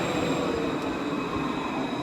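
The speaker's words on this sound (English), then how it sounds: "The blue snake-like transport. That's a tram." A blue tram draws into a city stop in Europe, its steady rolling rumble and faint wheel whine heard from a moderate distance, continuous and fairly quiet, with no one speaking.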